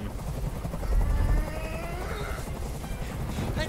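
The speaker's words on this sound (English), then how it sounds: "Tell that helicopter to get out of here." A helicopter hovers overhead in the video game Detroit: Become Human, a steady, dense rotor roar filling the whole scene with a low thumping swell, no voices over it.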